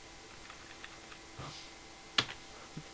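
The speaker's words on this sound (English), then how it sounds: "And then click M on the keyboard, and that'll give you a marker." A single computer keyboard key is pressed, a sharp faint tap in a quiet room, with a few softer clicks around it and no talking.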